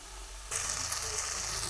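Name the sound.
drumstick flowers frying over a high gas flame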